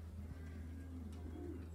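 A racing pigeon with its flock coos softly and steadily nearby, low murmuring calls over a constant hum, without speech.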